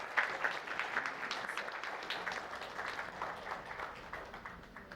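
An audience at an insurance conference claps steadily for about five seconds, the applause fairly faint and distant and fading slightly toward the end.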